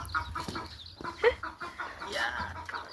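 Chicken chicks peep in short, high chirps mixed with soft clucks from nearby hens, coming in irregular bursts at close range outdoors.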